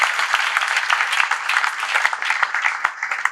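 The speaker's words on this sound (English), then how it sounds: "I think another round of applause" A round of audience applause at a design conference talk, brisk, dense clapping from a crowd that stays even and close for a few seconds before tapering slightly.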